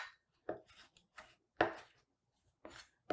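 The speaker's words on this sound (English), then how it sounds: "you can just use your fingers and kind of rip those leaves apart" Fresh salad leaves torn apart by hand for a Three Sisters salad make a handful of short, crisp ripping and crunching bursts, close and quiet, separated by brief silences.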